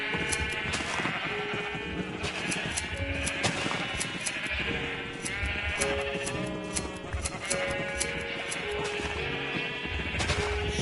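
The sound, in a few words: sheep bleating in Minecraft video game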